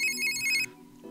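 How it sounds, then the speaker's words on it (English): Smartphone ringtone in the video game Steins;Gate 0, a bright electronic melodic tone that plays briefly and cuts off, followed by a low hum. "And then Dr. Leskenin got a call on his smartphone, so it was a phone call for him."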